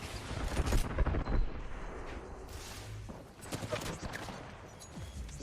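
Gunfire in the battle royale Apex Legends, crackling bursts and scattered shots mixed with explosions and faint footsteps, loud and busy throughout under a hint of voice.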